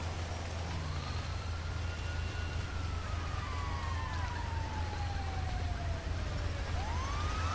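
A video game fire truck siren (GTA 5) wails, sweeping up and down steadily over a constant low rumble, loud and continuous throughout.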